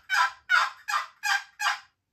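Five evenly spaced raspy yelps from a Phelps Game Calls turkey call mimic an old hen, loud and close, each a short throaty note with brief gaps between.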